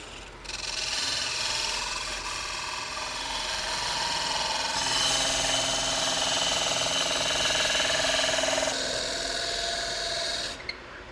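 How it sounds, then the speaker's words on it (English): A wood lathe parting off a turned piece, a continuous close scraping, rasping whine of the tool cutting into spinning wood for about ten seconds, shifting in tone partway through, then stopping abruptly, with no talk. "we'll go ahead and finish parting that off"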